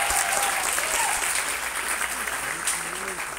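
An audience at a live music show in Teresina applauds a guitarist, a dense, continuous wash of clapping with faint voices calling out underneath.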